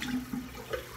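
Water running and gurgling down a bathroom sink drain after a wet shave, a short close burst of splashing and draining with no voices.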